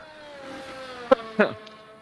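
Formula 1 car engines in a racing video game on the Jeddah circuit whine steadily with a gliding pitch, broken by two short sharp bursts, under faint talk.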